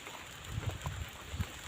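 Steady light rain in a forest where elephants shelter on the second day of continuous rainfall, a soft even patter with faint scattered drops, quiet and without voices.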